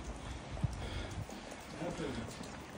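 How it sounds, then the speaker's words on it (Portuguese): Rain falls steadily on a rainy day in the Queluz and Sintra area of Portugal, a soft, continuous hiss of drops on surfaces with one brief thump partway through. "Dia de chuva."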